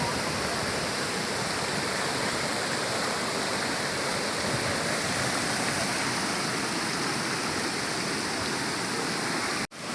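Water rushes at the base of Hatta Dam, a loud, dense, unbroken roar filling the air like a close waterfall, steady throughout before cutting off abruptly near the end.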